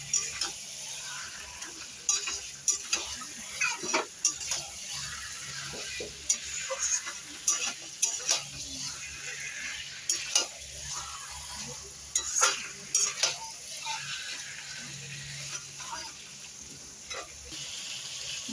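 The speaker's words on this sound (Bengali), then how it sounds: "মাংস দিয়ে 10-15 মিনিট কষাতে হবে" Meat stir-fried with spices in a pan, with repeated sharp spatula scrapes and clatters over a low, steady sizzle, close and fairly loud, without talk.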